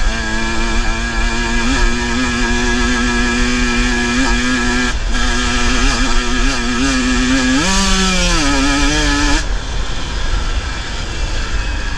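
A KTM 125 XC-W 2024 two-stroke dirt bike engine on a test ride, a loud, close buzzing whine with a steady pitch that briefly rises and falls as the throttle changes.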